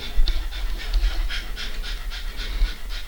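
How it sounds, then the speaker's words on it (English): A puppy pants in quick, steady rhythmic breaths close by, over a low background rumble, with no talking. "look at that puppy."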